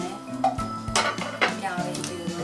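Meatballs for fellah köftesi going into a pot of boiling water, with several clinks and knocks of metal cookware and utensils, plus light stirring and bubbling.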